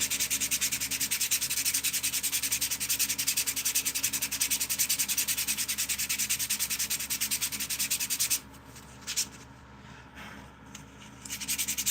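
Steady, continuous sanding scrapes across a wooden battle spoon as gouges are worked out, loud and close for most of the stretch before the rubbing breaks off into brief, lighter strokes near the end.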